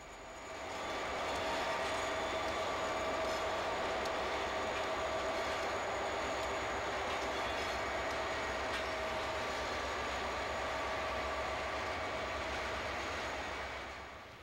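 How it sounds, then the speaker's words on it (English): Southern Pacific freight train of empty cars, hauled by three GP40 locomotives on the coast line, rolls past in a long, steady, loud rumble with a sustained engine drone and no talking. "Back to our first train."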